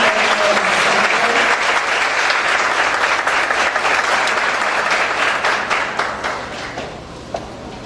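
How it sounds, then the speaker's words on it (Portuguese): A large audience at an education ministry event gives sustained, dense applause that holds steady and loud, then thins and fades toward the end with a few last scattered claps. "uma salva de palmas no Ministério da Educação."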